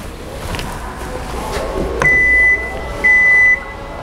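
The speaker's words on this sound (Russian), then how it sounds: "Очень быстро закрывается крышка багажного отделения" A power tailgate on a Korean car closing, with a low mechanical hum as it moves, then two loud, steady half-second warning beeps about a second apart.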